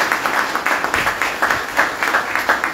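Applause from an audience at a signing ceremony: a crowd claps in a lively, rhythmic patter that pulses in slightly uneven waves, fairly loud and close, with no speech over it.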